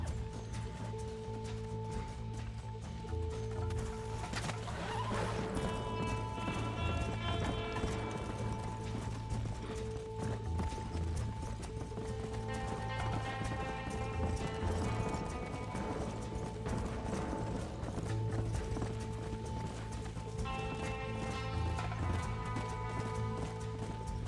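Horse hooves clip-clop steadily in the Red Dead Redemption video game, a continuous rhythmic trot under an ambient music bed with occasional whinnies. Nobody speaks.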